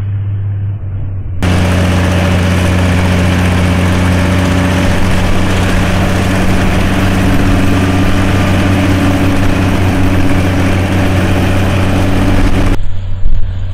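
An old John Deere 4020 tractor engine runs under load, a loud, steady low-pitched drone that starts abruptly after a quieter opening second and holds at the same level until it cuts off near the end, with no talking.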